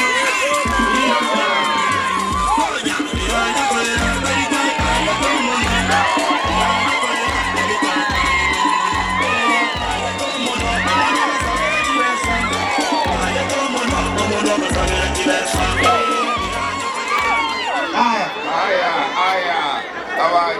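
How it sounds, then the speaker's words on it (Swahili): Rally crowd cheering and shouting for Steve Bukaka at a Kenya Kwanza gathering in Kisii, loud dense crowd noise under someone speaking, with a regular low thumping beat running through. "Wapi makofi ya Steve Bukaka"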